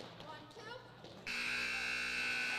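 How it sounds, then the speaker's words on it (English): A loud electronic buzzer blares in a gym during a high school junior varsity basketball game, cutting in abruptly after a stretch of crowd murmur and sustaining a steady, harsh tone to the end. "You'll hear that as the first buzzer."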